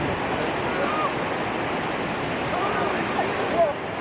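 A waterfall near a glacier in Juneau, Alaska, seen from a large sandbar: a steady, broad roar of rushing water fills the clip, loud and unbroken, with no voices heard.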